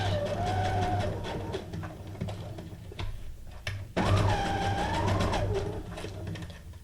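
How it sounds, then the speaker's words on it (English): A sewing machine straight-stitches paper paperclip ephemera for a junk journal. It gives a steady whirring, buzzing run up close, with a brief dip near the middle before it resumes. "And this one I'm just going to do a straight stitch."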